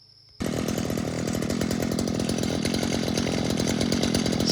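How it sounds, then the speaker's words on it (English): A gas-powered string trimmer with its guard removed starts up after a brief quiet moment and then runs loud, close and steady with a buzzing two-stroke drone, without revving. "it's been a good trimmer. Always starts and runs."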